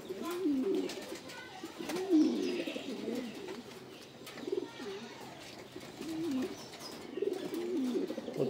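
A nearby pigeon gives soft, low coos in several separate bursts with short pauses between them, against a quiet background.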